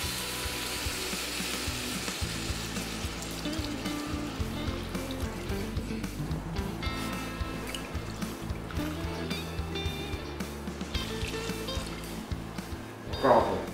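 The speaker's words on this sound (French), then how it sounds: "on va déglacer avec 30 centilitres de vin blanc" Veal roast in a casserole being deglazed with white wine: continuous bubbling sizzle and liquid trickle under a faint background voice, ending in a brief clatter.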